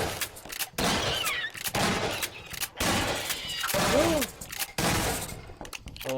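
Gunfire in Half-Life 2: Episode One, dense loud bursts of shots and impacts crowding the whole span with brief gaps, mixed with game effects and short tonal sweeps.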